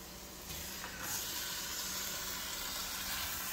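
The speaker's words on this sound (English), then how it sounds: "we're just going to let this sear up on the sides for just a touch" A steak, finished after sous vide in a Pampered Chef multi cooker, searing in a cast iron skillet, giving a steady, faint hiss that swells slightly after the first second and holds evenly.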